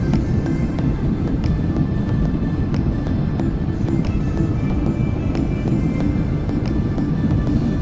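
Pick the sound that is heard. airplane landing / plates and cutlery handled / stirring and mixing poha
airplane landing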